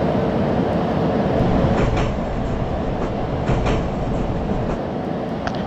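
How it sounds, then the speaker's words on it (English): Train rumble from a train simulator game on the Celle to Hannover line, a steady, loud low rolling drone with faint clicks and brief squeals over it, continuous and close, with no talk. "there's a train right over there"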